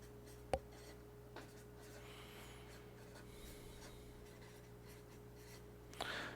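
Faint, steady scratching of writing on a board during a classroom lesson on kinematics, with a couple of light taps, under a constant low electrical hum and no talking.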